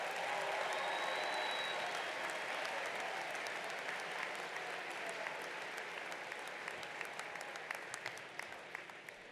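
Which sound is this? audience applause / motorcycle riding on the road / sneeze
audience applause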